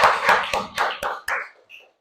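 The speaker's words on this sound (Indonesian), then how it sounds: "Tepuk tangan untuk semuanya kelas 10 KL2" A classroom of tenth-grade students applauding, heard as a short burst of roughly half a dozen sharp, separate claps that thin out and fade within two seconds.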